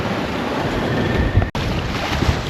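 Waves wash against a sailing boat at sea on a night crossing from Sweden to Gotland, with steady surf and wind noise on the microphone and one brief dropout midway.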